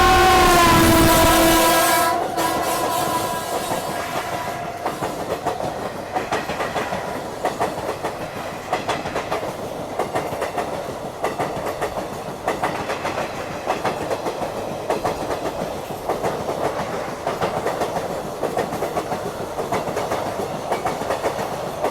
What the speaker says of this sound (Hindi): ऐसा लगा शायद से ये भुसावल कटनी एक्सप्रेस लग रही है मुझे